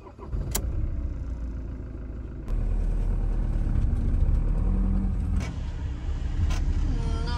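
A car drives on the road, its engine rumble and road noise close and steady, rising a step in loudness partway through, with a few brief clicks and knocks over the drone.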